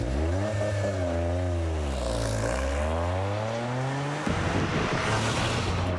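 A 2023 Toyota GR Corolla, with each cylinder feeding its own tailpipe, fires up close by and revs through several rising and falling growls, then settles into a rougher, busier idle near the end, with no talking.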